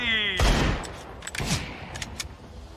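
Gunfire in the video game CS:GO: a quick burst of shots followed by scattered lighter pops, under a muffled background with people talking.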